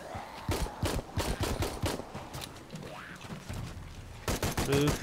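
Rapid bursts of gunfire in Shadow of the Tomb Raider, shots cracking in quick volleys with brief pauses and a final heavy barrage.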